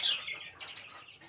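A young baladi chick peeps faintly with a few thin, high chirps, the first the strongest, against near quiet.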